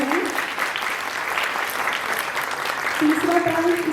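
Continuous, dense applause fills a hall at a stamp exhibition prize ceremony, many hands clapping steadily, with a voice speaking over the clapping near the end.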